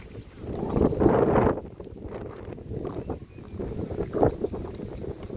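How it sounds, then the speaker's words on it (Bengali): Strong wind buffets the microphone in gusts near a tea garden in Sreemangal, loudest near the start, with a low, steady roar underneath. "প্রচুর বাতাস, প্রচুর।"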